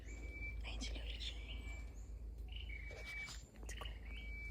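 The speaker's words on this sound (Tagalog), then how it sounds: "Ang ingay ng mga ibon." Birds chirp during an outdoor birding outing, with scattered short high calls and tweets over a low background hum. Soft voices murmur quietly nearby.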